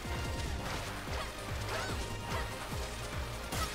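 A glass mirror shatters under repeated blows in the video game Freedom Planet: a rapid series of crashing, cracking impacts packed over a few seconds amid busy game sound effects.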